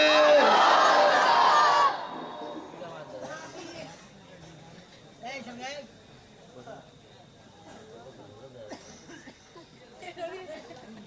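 A crowd at a Bengali religious gathering roars a loud collective chant of Allahu Akbar in response to a takbir call, lasting about two seconds and then dropping to scattered murmuring and low chatter.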